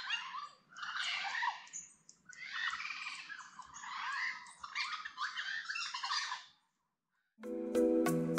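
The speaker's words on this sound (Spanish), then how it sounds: "oigan el sonido de esos pájaros que están ahí en ese árbol" Several birds in a tree squawk and chatter in harsh bursts from nearby near Presa Sabaneta, San Juan de la Maguana, pausing briefly, followed by a short electronic tone at the end.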